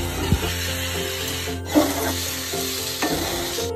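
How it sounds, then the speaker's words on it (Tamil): Chili idly being stirred and mixed in a frying pan on the stove, with a soft steady sizzle of frying and a few gentle scraping stirs of the spoon against the pan. "உடையாம நம்ம மிக்ஸ் பண்ணிக்குவோம்."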